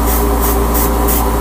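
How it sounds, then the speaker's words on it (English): Spray paint hissing onto two Gundam model kit parts, a loud, close, steady aerosol rush with pulsing bursts as the can sweeps back and forth. "I'm going to spray the two parts like this"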